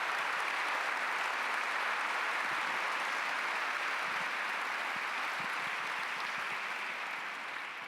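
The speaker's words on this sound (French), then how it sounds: "Je crois qu'on peut applaudir là encore." A large audience applauds steadily, a dense, even wash of clapping that holds for several seconds at an indoor event and eases off slightly at the end, with no voices above it.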